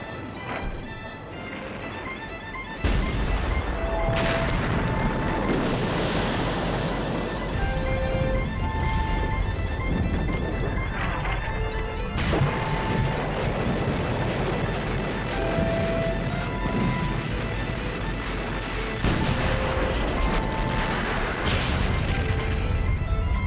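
Heavy German artillery bombardment of British lines in March 1918, a dense continuous roar of overlapping shell blasts and booms, loud throughout, with sharper crashing impacts near the start and again around the twentieth second.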